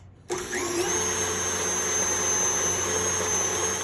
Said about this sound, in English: I'm gonna begin to mix everything in here, puree everything nice together